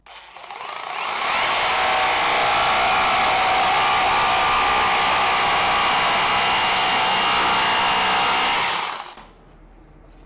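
A Bosch jigsaw running at top speed with the trigger fully pressed cuts through 15 mm OSB board, a loud steady rasping buzz that ramps up, holds for about eight seconds, then cuts off abruptly.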